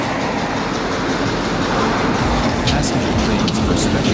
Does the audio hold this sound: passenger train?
yes